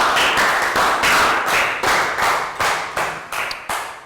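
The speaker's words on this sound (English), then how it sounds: "Round of applause." A round of clapping closing a Year 3 health education lesson, heard as a series of about ten sharp, evenly spaced bursts, each fading quickly before the next.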